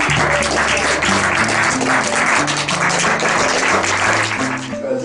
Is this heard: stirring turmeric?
no